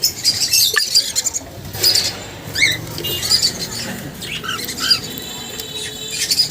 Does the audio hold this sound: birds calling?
yes